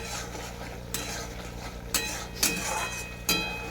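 Turmeric and spices sizzling in hot oil for a fish curry, stirred with a utensil that clinks and scrapes against the pan every second or so over a steady frying hiss.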